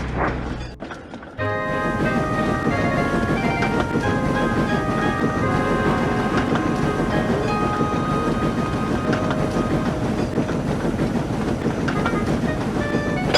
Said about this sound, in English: The last of the lumber flatbeds are shunted.